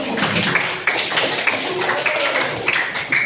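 A class of students claps hands together in a lively round of rhythmic, patterned clapping, fairly close and loud, with some voices underneath.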